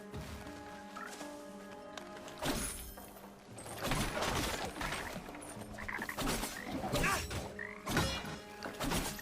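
Frog-like croaking from enemy creatures in the video game Prince of Persia: The Lost Crown, repeated rough croaks at close range mixed into busy game music and effects, with no talking.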